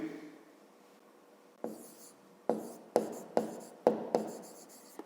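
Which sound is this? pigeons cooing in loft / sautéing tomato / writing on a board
writing on a board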